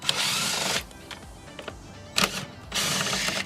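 A power driver backs out T27 Torx screws from a Hummer turn signal housing: loud, close bursts of whirring at the start and end, with light clicks and tool handling in the gap between.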